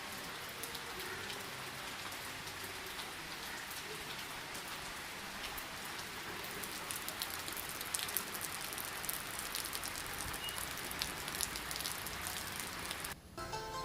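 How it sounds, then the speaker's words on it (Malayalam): Heavy rain falling outside a balcony on a rainy day, a dense, continuous hiss of drops pattering on surfaces, steady and moderately distant, with no voices. "അപ്പോൾ ഇതാ നല്ല മഴ പെയ്യുന്നുണ്ട്."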